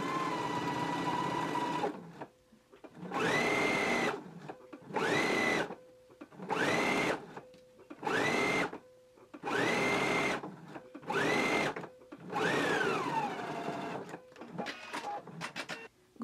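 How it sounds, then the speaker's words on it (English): A domestic sewing machine runs a sleeve hem for a shirt in bursts, about eight loud whirring runs of a second or so each separated by short pauses, close and alone with no talk. "Go ahead and stitch your other hem the same way."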